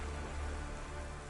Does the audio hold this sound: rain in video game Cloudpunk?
yes